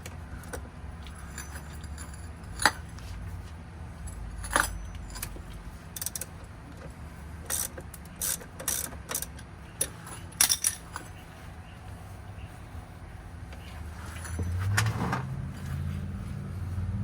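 A 3/8 drive ratchet breaks loose the oil drain plug on a Ram 2500 with a 6.7L Cummins, giving scattered metallic clicks and clanks over a low steady rumble, with a heavier clunk near the end.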